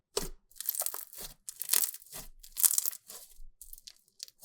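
Crunchy slime squished and played with by hand, a close series of crackling, crinkling crunches in irregular bursts with short quiet gaps between them.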